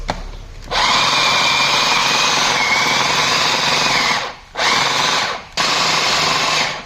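Electric chopper grinding dry spices for undhiyu, a loud continuous whirring run for about three seconds, then two shorter bursts separated by brief pauses, with no voices.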